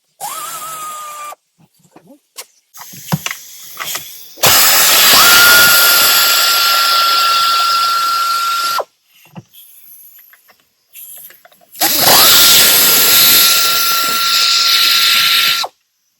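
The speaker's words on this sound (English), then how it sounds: "Once again, I'll use my air ratchet, my 13 millimeter deep." Air ratchet with a 13 mm deep socket spinning valve cover bolts off a Ford 350 engine, two long loud hissing whirring bursts with short clicks and handling noises between them.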